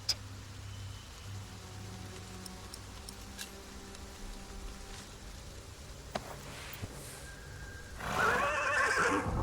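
A horse neighs in a loud, shrill whinny near the end, after a long stretch of quiet ambience with faint ticks and clip-clop sounds.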